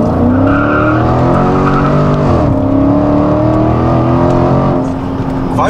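A Dodge Challenger TA 392 launches on a wet road, its V8 roaring and climbing through revs with wheelspin, loud and close, easing off near the end.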